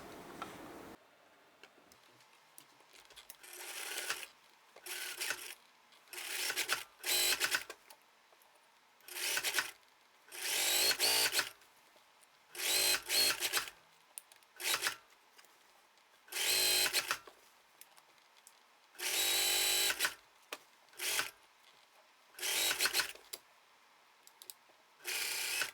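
A sewing machine stitches a 1 cm armhole seam on a high-neck vest, running in a dozen short, steady bursts of mechanical whirring separated by brief pauses, close and alone with no voices.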